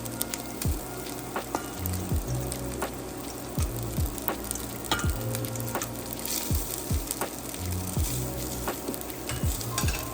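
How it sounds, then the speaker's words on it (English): Noodles stir-fried with ginger and garlic in a skillet for beef chow mein, a continuous close sizzle broken by repeated sharp clacks and scrapes of tossing utensils at an irregular rhythm, with no talking. "Now we're going to add the noodles and toss it with the ginger and garlic and mix everything together for a few"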